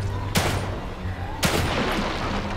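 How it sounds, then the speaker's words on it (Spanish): Two loud, sharp pistol shots from the video game The Evil Within 2 ring out about a second apart, each with a short echoing decay over a constant background hum. "6 disparos de pistola, vale."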